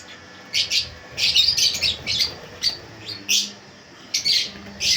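Gouldian finches in an aviary give short, bright chirps in quick irregular bursts, close and clear over a quiet background.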